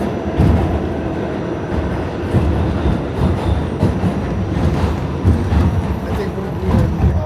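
A New York City subway train with metal wheels rumbles loudly and continuously, with a rattling clatter of the cars running throughout and no voices.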